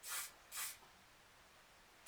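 An aerosol spray paint can hisses through a star stencil onto a recycled canvas in two short close bursts, followed by quiet.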